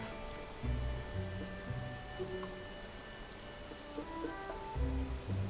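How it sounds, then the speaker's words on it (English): Steady in-game rainfall in Zelda: Tears of the Kingdom, a soft continuous hiss layered with ambient music tones and low thumps, without speech. "Hopefully by the time we get out it'll stop raining."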